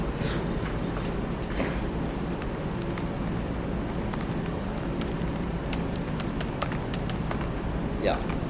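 Code is typed on a computer keyboard in a quiet room, sparse irregular key clicks over a low hum.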